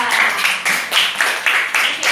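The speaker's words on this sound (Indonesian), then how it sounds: "Oke, tepuk tangan untuk Maria." Schoolchildren in a classroom clapping together for a classmate in a quick rhythmic pattern of loud, close bursts, repeating evenly for about two seconds before stopping abruptly.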